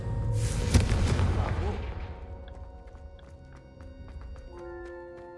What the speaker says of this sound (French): première fois qu'Ominis et moi avons essayé Confringo, on s'est brûlé les sourcils